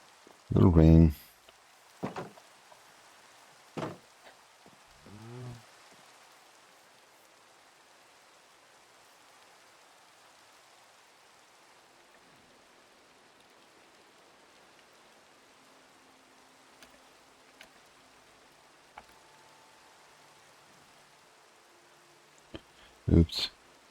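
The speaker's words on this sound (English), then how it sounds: "a little rain." Soft, steady rain falls in the video game Cozy Meadows, a faint continuous hiss running through the scene, broken by a few louder bursts of speech at the start and end.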